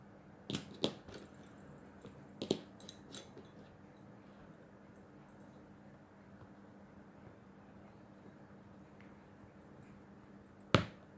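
A few sharp snaps close by, two near the start and one late, with a quiet room hush in between.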